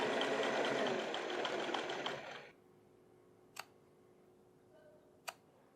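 A sewing machine stitches a buttonhole on the waistband of men's pants, a dense steady whir for about two seconds that then stops, leaving near-silence broken by two brief sharp clicks.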